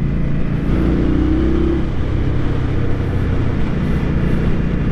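A 2023 Indian Scout motorcycle accelerating as the rider rolls on the throttle, a steady engine drone mixed with wind rush and a brief rising whine partway through.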